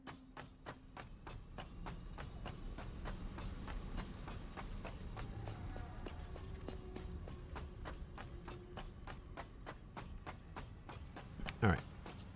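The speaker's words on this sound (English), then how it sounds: "That train should be dropping off more plastic." Train running in the video game Satisfactory, a steady rapid clicking rhythm of rail noise over a low rumble throughout, with a brief sharp swell near the end; a person talks over it.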